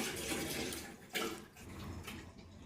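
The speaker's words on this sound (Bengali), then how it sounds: "আর আমি জলটা ভরে দিই, বাথরুমে জল আরে ভরতে হবে, খাবার জল নিতে হবে।" Tap water rushes steadily into containers in a home, a continuous close splashing pour with a brief sharper surge of water partway through.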